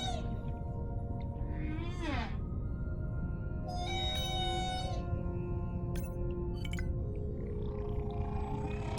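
Whale social calls in the undersea game Beyond Blue: varied rising and falling moans, chirps and short upsweeping whistles over a steady low ocean rumble, spread through the clip with no talking.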